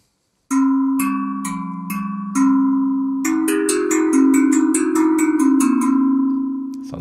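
Tangent drum, a tuned metal percussion instrument, struck with a pen: a run of clean, ringing metallic notes, sparse at first and then quicker, each tone sustaining and overlapping, close and clear with no talk.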